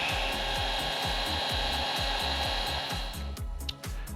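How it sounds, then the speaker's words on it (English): A heat gun shrinks red heat shrink tubing on DC panel cabling, its fan and heater blowing a loud, steady rushing hum with a fast pulsing motor rhythm that clatters and drops away near the end. "We get the heat gun fired up here."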